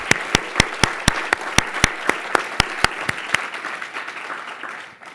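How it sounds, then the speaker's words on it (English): Applause at the John F. Kennedy New Frontier Awards ceremony, with a few loud, evenly spaced claps up close over a broader crowd clapping that gradually thins and fades. "Could we give them a round of applause?"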